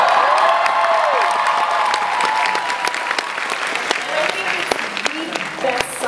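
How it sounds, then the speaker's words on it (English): Audience at an Adventure Time and Steven Universe convention panel at San Diego Comic-Con applauds, a dense burst of clapping with a few whoops that slowly tapers, a voice talking over it. "I think it deserves a little more applause than that"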